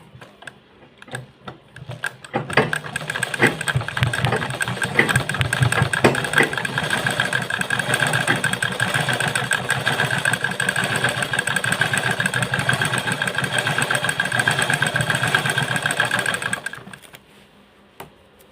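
A sewing machine that skips stitches runs continuously and steadily for about fifteen seconds, a fast mechanical whir with rapid clatter. It starts after a few brief taps and winds down abruptly near the end.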